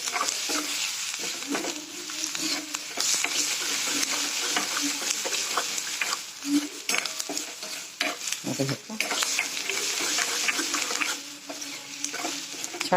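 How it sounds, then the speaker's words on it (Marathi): Peanuts dry roasting in a pan while being stirred continuously, making a close, steady scraping and rattling with faint sizzle throughout. "आता छान भाजत चांगला भाजला जातो"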